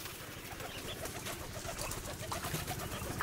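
Young pigeons cooing softly and steadily at close range, a continuous low murmur of bird calls with no talk over it.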